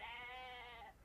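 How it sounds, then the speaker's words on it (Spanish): Sheep bleating on a farm, one long wavering bleat lasting about a second, close and clear with no talk over it. "Vivimos en una granja y tenemos muchas ovejas y ovejitas."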